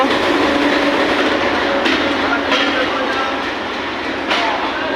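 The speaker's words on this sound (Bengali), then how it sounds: "আমাদের এই বাংলা মান্দার ট্রেনটি অটোমেটিকলি এই মুহূর্তে আসছে" A loud, steady rumble of a train arriving at a station rolls past close by, with clattering wheels and a few sharp metallic clanks over the noise.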